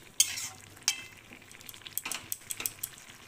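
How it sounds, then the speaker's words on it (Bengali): A spoon stirs carrot halwa cooking in milk in a pan, giving soft scraping and sizzling with a few sharp clinks of metal against the pan, close and fairly quiet. "এটাকে এখন অনবরত নেড়ে নেড়ে রান্না করতে হবে"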